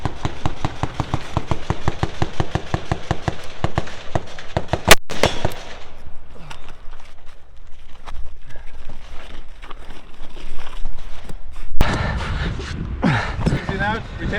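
Rapid gunfire at an off-road practical shooting stage, a fast string of sharp cracks in the first five seconds, one loud shot, then quieter movement and gear sounds before another burst of shots, with people talking outdoors.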